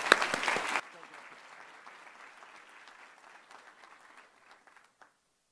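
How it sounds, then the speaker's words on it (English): A board meeting audience gives students a round of applause that starts loud and close, drops sharply after a moment to softer clapping, and trails off to a few last claps before silence. "let's give these students one more big round of applause."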